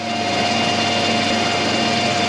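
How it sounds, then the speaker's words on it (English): A steady, high-pitched whine of a small 3mm drill bit cutting into stainless steel, continuous and loud with a constant tone throughout. "The little 3mm Bango drill into stainless."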